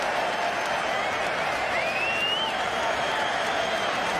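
Cricket crowd applauding and cheering a six struck by Haddin to reach his fifty, a dense continuous roar of clapping and cheers with a brief whistle rising above it midway.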